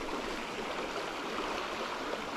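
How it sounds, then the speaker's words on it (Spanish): Fast-flowing trout river in high water, a loud, steady broadband rush of current heard close and alone, unbroken throughout. "Baja muchísimo agua."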